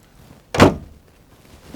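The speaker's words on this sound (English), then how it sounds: "Open the door" An excavator cab door on a Liugong CLG 922E swings open with one sharp, close thunk and latch clack, then low ambient quiet.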